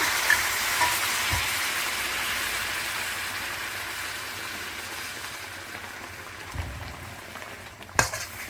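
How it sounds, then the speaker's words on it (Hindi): Flaxseed mixture stirred with melted jaggery syrup in a pan over medium-low flame gives a steady, close sizzle with soft spoon scrapes, a few sharper knocks near the end, no talking. "और साथ में ऐसे चमचा हिलाते रहेंगे।"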